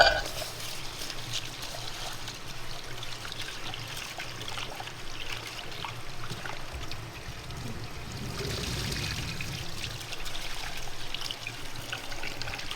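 Running water flows at a hidden riverside spot in Infanta, Quezon. It trickles and gurgles in a steady, unbroken stream at moderate volume, and there is little else around it.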